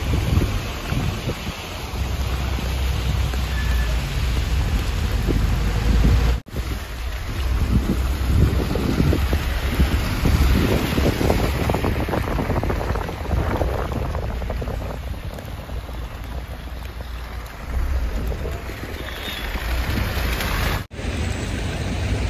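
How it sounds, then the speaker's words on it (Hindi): Heavy rain pours steadily near Freedom Square in Georgia, with wind gusting against the microphone in a constant loud roar and hiss that swells and eases slightly throughout. "तो अभी बारिश बड़ी तेज़ हो रही है।"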